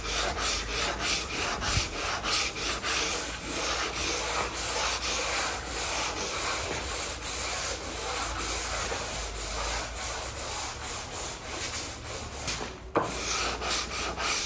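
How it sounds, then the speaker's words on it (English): Hand sanding with a block along the edge of a wooden door produces steady, rhythmic back-and-forth rasping strokes, loud and close, continuing without pause and ending with a brief knock. "So I like to just do it by hand with a block"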